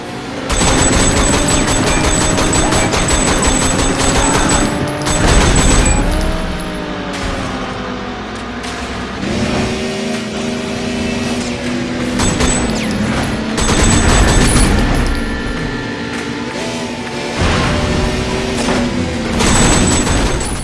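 Rapid gunfire crackles over roaring car engines and screeching tyres during a high-speed car chase in the video game Sleeping Dogs, loud and continuous throughout with bursts of shots and booms.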